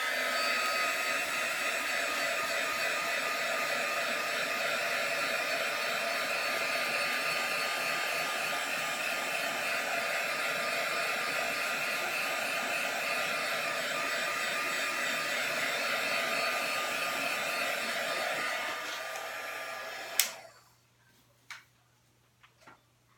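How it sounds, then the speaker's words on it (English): Embossing heat tool blowing steadily on an acrylic paint pour, a loud continuous fan-and-air hiss that runs for about twenty seconds before switching off, leaving a few faint ticks and clicks. "I'm going to go ahead and hit it with my embossing tool real quick."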